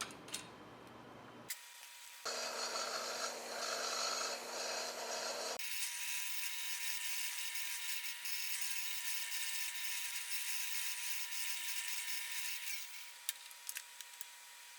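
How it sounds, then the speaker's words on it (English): A Forstner bit drills a hole in wood during a router sled shelf-groove build, giving a steady, grinding whir that runs for most of the stretch after a brief pause and quieter start. "I like to drill the first hole and then set my depth stop."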